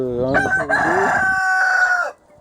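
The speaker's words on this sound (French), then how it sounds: "Les petits poussins c'est déjà des beaux poulets déjà." A rooster crows loudly and close, with a long drawn-out call, among hens and two-month-old chicks in a backyard poultry enclosure. Brief clucking precedes the crow, and the clip ends in near silence.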